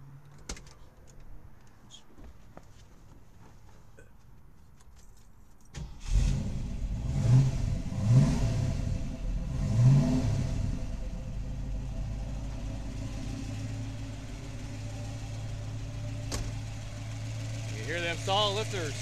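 A 1970 Ford Mustang Boss 302 V8 with solid lifters cranks and fires after a quiet lead-in, then revs several times in loud bursts before settling into a strong, steady idle, with someone talking briefly.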